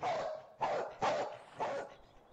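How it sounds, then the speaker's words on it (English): Dog in the Mystery Case Files: The Dalimer Legacy hidden-object game gives four loud, evenly spaced barks, each short and close, with nothing else heard. "Hey dog, I gave you a bone."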